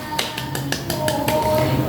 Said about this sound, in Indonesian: Beri tepuk tangan untuk teman-temannya semua.